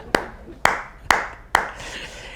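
Four single hand claps ring out sharply at even intervals, each with a short echoing tail, with no crowd applause around them.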